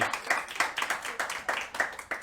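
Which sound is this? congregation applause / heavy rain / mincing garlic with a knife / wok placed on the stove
congregation applause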